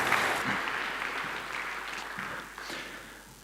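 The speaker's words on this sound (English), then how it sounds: "Give Dave a round of applause" An audience claps and applauds steadily throughout, a dense, sustained round of applause that slowly tapers off, with no speech over it.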